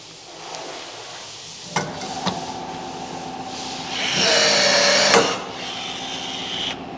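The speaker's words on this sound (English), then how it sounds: "now I'm going to drill a 5mm hole here for a 5mm rivet" A power drill whirs up to a high-pitched whine for about a second, drilling a 5mm rivet hole on a Suzuki DA63T kei truck during a snorkel install, preceded by a few sharp taps and clicks nearby.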